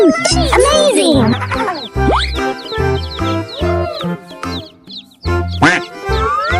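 Cartoonish duck quacks pop up repeatedly among bright, lively voices and chiming tones, loud and close throughout.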